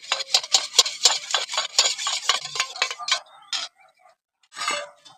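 Cracked egg beaten with a pinch of salt in a bowl, a quick run of sharp, rhythmic whisking clicks against the bowl that slows, pauses, then returns in a short final burst; close and fairly loud.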